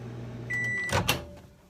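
A microwave oven runs briefly while melting cheese on a bacon, beef and sausage breakfast burger, a steady hum and whine followed by a couple of sharp clunks like the door or turntable, close and fairly quiet.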